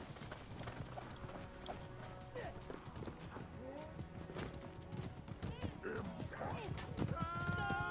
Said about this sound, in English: There are a lot of horses out here.